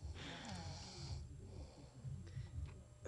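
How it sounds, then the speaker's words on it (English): A woman snores steadily in a quiet room, with rough, rattling breaths drawn in and pushed out at an even pace, close and fairly soft. "How do you feel about your sister snoring"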